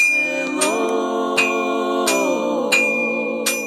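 A melodic bell chime rings out at a working village smithy, a sustained tonal peal with a new strike about every 0.7 seconds, loud and close with no talk over it.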